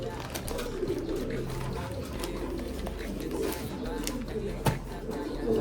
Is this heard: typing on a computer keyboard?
no